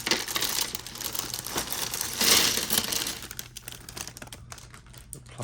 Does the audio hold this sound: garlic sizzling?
no